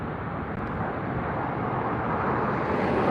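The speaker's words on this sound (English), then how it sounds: "There's the Qantas A380 coming in from Sydney, Qantas Flight 11, and A380 800." A Qantas Airbus A380-800 on approach to land at LAX makes a steady, broad jet roar that holds loud and constant throughout, with wind buffeting on the microphone.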